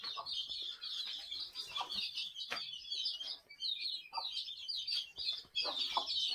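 Village-farm chickens, including a hen with chicks, clucking and cackling in short bursts with high chirps mixed in, close and fairly steady with no talk.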